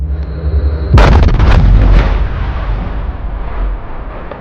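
A bomb blasts beneath an armored troop carrier: one sudden, very loud boom with a burst of crackling debris, then a long rumbling decay, heard alone.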